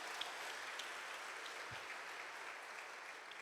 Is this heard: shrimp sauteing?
no